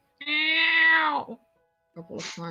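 A person imitates a hungry cat, giving one long, drawn-out, nasal meow, then a short pause and a couple of clipped mewing sounds.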